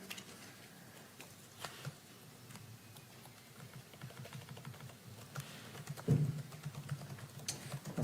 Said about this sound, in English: typing away up there, just typing.